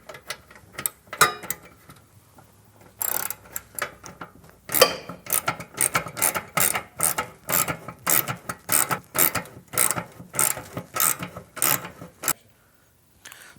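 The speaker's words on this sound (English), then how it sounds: "We want to tighten up the muffler clamp with our 9/16 socket" A ratchet with a 9/16 socket tightens the muffler clamp on a Milwaukee 8 Softail Fat Bob, giving a few quick clicks and then a long run of steady, close, loud ratcheting strokes.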